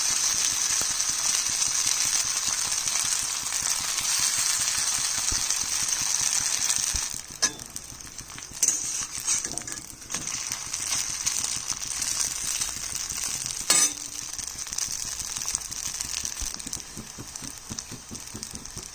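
Chilli and gima-leaf fritters frying in hot oil in a home kitchen, a continuous hissing sizzle with scattered clicks and scrapes from stirring, loud at first and then a little quieter, with no talk.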